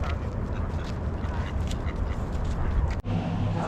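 Ducks quacking beside a canal in Prague, a busy rapid chatter over steady outdoor background noise throughout, fairly loud and close.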